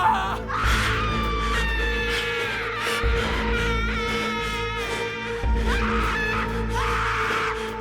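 A shrill, high-pitched scream from a shadow creature in an animated horror story, a long wavering wail that rises and falls for several seconds over a deep rumbling drone.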